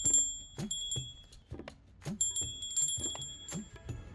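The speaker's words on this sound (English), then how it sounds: "So here's my bell. I've fixed a little ringer in it" A small bell rings in a series of light, bright strikes at irregular intervals, each leaving a short metallic shimmer, close and fairly quiet.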